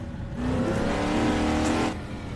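A 1966 Ford Mustang Fastback in the Assetto Corsa racing game, descending a downhill touge mountain road: a loud, close engine roar that swells as it revs up and holds for a moment, then eases off, with no talking.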